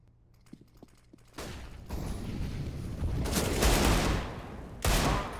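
Desert Eagle pistol fire during a CS:GO match, a few quiet clicks and then loud sustained bursts of shots with gunfire noise that swells and cuts out, near and dense.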